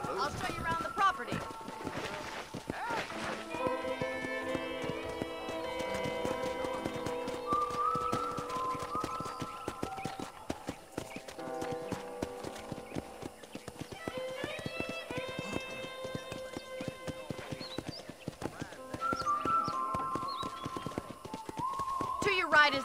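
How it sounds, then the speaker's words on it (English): Horse hooves clip-clop at a riding pace in the Red Dead Redemption video game, a steady rhythm beneath music and characters talking. "let's see if you can still ride a horse"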